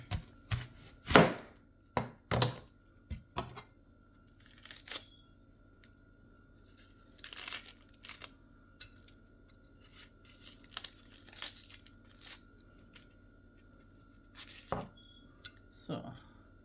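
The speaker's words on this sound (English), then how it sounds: "So I'm gonna cut a little bit of the onion." A knife slices an onion on a board for a low-calorie weight-loss salad, giving a dozen or so sharp, irregular chopping knocks spread across the clip, some close and crisp, with quiet gaps between.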